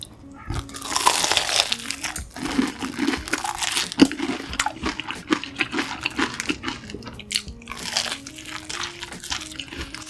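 Crisp crunching bites and chewing of a fried croquette bread, close up, repeating steadily with small crinkly rustles in between; no talking.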